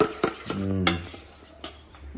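A spoon stirs pancake batter in a bowl, giving a few short scraping and clinking strokes with brief pauses between them, close and moderately loud, with no talking.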